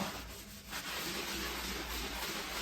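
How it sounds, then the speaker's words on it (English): A sponge loaded with a vinegar paste scrubs a bumpy floor basin, giving a quiet, continuous gritty rubbing close by, swishing back and forth with no talk over it. "And now you just work on scrubbing at your floor like so."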